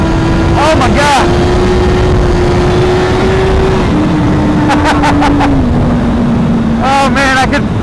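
A 2016 BMW S1000RR sport bike's engine drones loud and steady during a wheelie, its pitch holding then stepping down slightly, with wind rush and a rider's excited voice breaking in.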